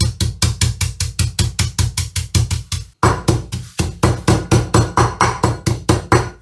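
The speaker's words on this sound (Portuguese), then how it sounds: "agora com esse martelinho aqui de amaciar carne, é só dar umas pancadinhas, de leve" A small meat-tenderizing mallet taps bagged wakame seaweed in a steady run of light, close knocks, about three per second, with a brief pause partway through before the even tapping resumes.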